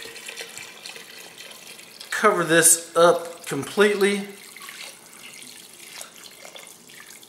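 Water pours over beef bones into a pressure cooker for stock, a gurgling, splashing stream that rises in a few loud bursts in the middle of the clip while a person speaks over it, with quieter room tone before and after.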